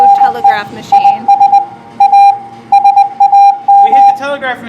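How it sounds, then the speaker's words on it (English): A Morse code telegraph machine at the Ripley's Believe It Or Not! museum in Branson, Missouri beeps a loud steady tone in irregular short and long pulses, with people talking around it. "We hit the telegraph machine."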